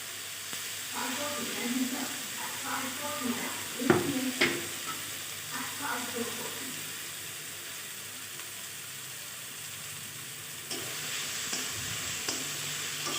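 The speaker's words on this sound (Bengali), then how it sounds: "এখন টমেটোটা নেড়ে চেড়ে সামান্য পরিমাণে হলুদ দিয়ে ঢাকা দিয়ে একদম টমেটোটা আমি মজিয়ে নেব" Chopped tomatoes with a little turmeric are stirred in a pan while cooking a bhola fish curry, giving soft scraping and a low sizzle with a couple of sharper spoon knocks midway, then a steady quiet hiss.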